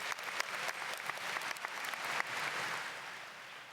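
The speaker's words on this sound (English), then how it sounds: "give them a show of support and give them a round of applause" Audience applause at a high school graduation ceremony: steady clapping from a large crowd with a few sharper claps standing out, holding at moderate level throughout.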